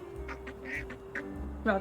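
A duck in the video game Little Kitty, Big City gives a few short quacks over looping game music, with people talking alongside.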